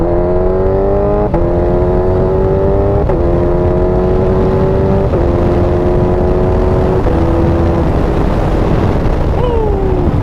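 A Kawasaki Ninja H2 motorcycle accelerates hard through six gears. The engine whine climbs steeply, drops sharply at each shift, then climbs again. It sounds loud and close, with a rushing wind roar underneath.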